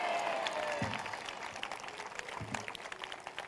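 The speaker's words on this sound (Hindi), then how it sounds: "वो आज मुस्कुराकर धन्यवाद करेगा तालियों में।" A church congregation at a prayer service claps in a brief, moderately loud burst of applause that tapers off into scattered claps and faint crowd murmur.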